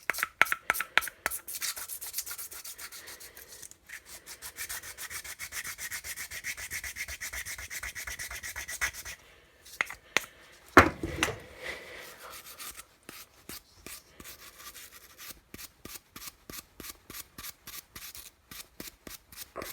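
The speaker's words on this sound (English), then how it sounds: "I might be able to go at it quick with a sandpaper block. 600 grit sandpaper." Hand sanding of a metal weed whacker part using a block wrapped in 600 grit sandpaper: steady rapid back-and-forth rubbing strokes, close and fairly quiet, with a short pause and a clunk partway through before the rhythmic strokes resume.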